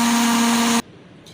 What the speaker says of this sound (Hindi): हाफ़ कप के करीब जो है मैं दूध इसके अंदर डालूँगी ब्लेंडर में बाकी मिक्सचर्स के साथ